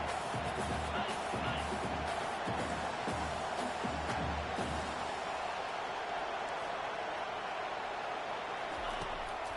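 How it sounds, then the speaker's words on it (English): Home crowd at a Vanderbilt college football game against Georgia, a steady broadband roar of cheering that fills the whole stretch without letup. "this home crowd is fired up and ready to make a difference"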